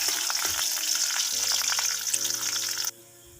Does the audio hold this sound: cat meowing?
no